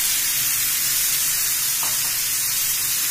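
Dried jackfruit pieces for a Kerala-style stir-fry sizzle in hot oil in a pan, a loud, steady hiss with no speech over it.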